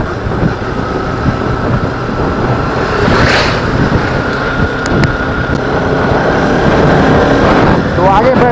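Bajaj Pulsar motorcycle riding on a road toward Dimna Lake near Jamshedpur, a loud continuous engine drone with rushing wind noise throughout, close and steady.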